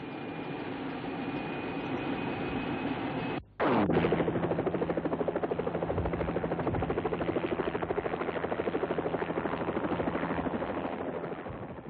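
An NBN news helicopter flies with a steady, rapid rotor chop, loud and close, dropping out briefly before the rhythmic thumping returns with a low engine drone; no one speaks.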